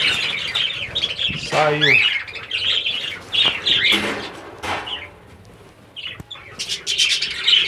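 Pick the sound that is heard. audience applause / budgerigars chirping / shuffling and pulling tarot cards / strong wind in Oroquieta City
budgerigars chirping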